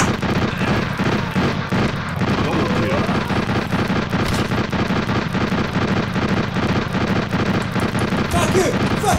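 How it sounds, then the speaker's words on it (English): Rapid gunfire from the Rapid Fire VR game on an HTC Vive, a dense, continuous stream of loud shots in quick succession with a player's voice shouting over it. "I'm just gonna keep firing rapidly!"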